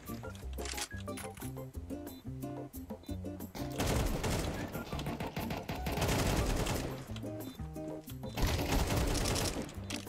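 Shotgun blasts and heavy gunfire in Counter-Strike 2 come in several dense, loud bursts over pulsing background music, with a voice talking now and then.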